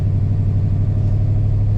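The engine of a 1965 Mustang runs with a steady, loud, low rumble close by, with no voices.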